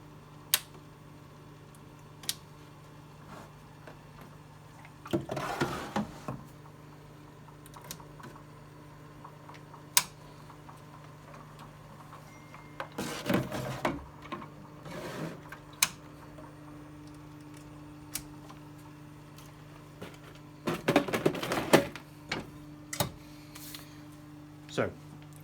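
A DS2 washer machine runs with a steady low hum under the whole stretch, broken by a few short bursts of clicking and clattering, with a person talking in between.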